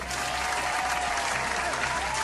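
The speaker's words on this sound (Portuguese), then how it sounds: "Palmas pro Aquiles." A small group applauding during a casual developer livestream, a quiet, steady patter of clapping hands that continues evenly throughout.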